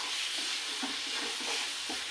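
Spice masala with cumin frying in a pan for a chicken curry, a constant dense sizzle with soft stirring scrapes beneath it, with no talk.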